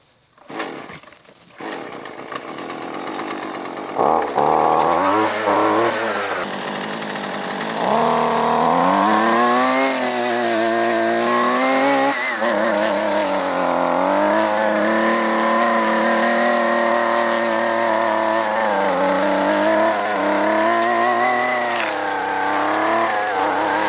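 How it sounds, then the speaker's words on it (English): Gas string trimmer running close by and loud, cutting thick weeds and grass, with a steady high engine whine that rises and dips in pitch as it bogs and revs. "See if she'll get away from the noise of the string trimmer"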